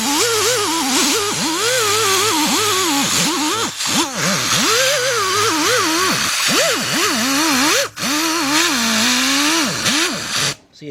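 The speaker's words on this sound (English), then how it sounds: "I'm using my die grinder right here with my wire wheel brush on it at the end" A die grinder fitted with a wire wheel brush cleans a part from a 2003 Jeep Liberty Sport 3.7 engine, whining loudly and close, its pitch rising and dipping repeatedly as the brush is pressed and eased, with brief drops near the end.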